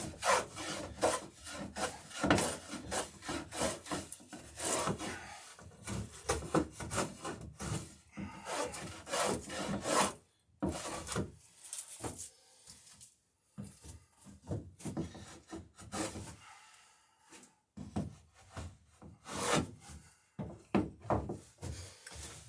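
Hand beveling along the edge of a wooden thwart seat for a Chamberlain Alpha dory, with steady rhythmic rasping and planing strokes, close and continuous, broken by a few brief pauses.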